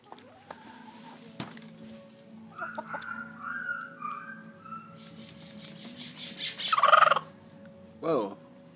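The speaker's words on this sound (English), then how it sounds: "Hey, yo, chickens." Backyard chickens give a scattered series of clucks and squawks, ending in louder, agitated calls. They sound moderately close and fairly quiet, with no speech.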